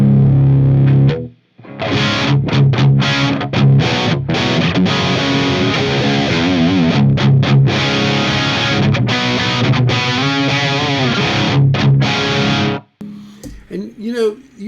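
A distorted electric guitar played through a Mesa Boogie Dual Rectifier amplifier, heavy and loud with chugging palm-muted riffs and short gaps, the tone set dark, ending abruptly with a brief quiet tail.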